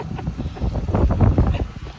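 Strong wind at Tagaytay City buffets the microphone in a loud continuous rumble, with voices faintly mixed in.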